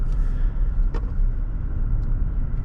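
Cabin drone of a 2020-2023 Toyota Tacoma TRD Sport pickup cruising at about 1100 RPM, a steady low rumble with faint road noise and a couple of small clicks.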